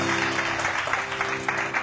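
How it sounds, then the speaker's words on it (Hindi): Brief, steady burst of audience clapping at a gathering honouring young girls, dense and even throughout with a faint low hum beneath. "तो ढेर सारी तालियां।"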